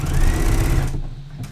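A sewing machine runs a zigzag topstitch on swimsuit fabric, a dense, steady mechanical whir for about a second before it cuts off into near quiet.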